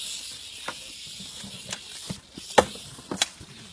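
A big rattlesnake, about five feet long, in the Texas brush at Converse gives a hissing, buzzing rattle broken by sharp bursts, close and moderately loud with no talking.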